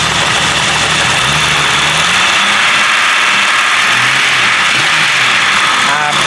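Loud, continuous idle of a 4.0 engine running on cheap conventional 10W40 oil, a close, steady mechanical churn with a few faint rev swells and a voice talking over it.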